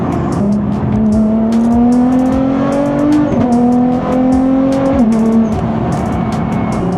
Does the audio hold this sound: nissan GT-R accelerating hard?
yes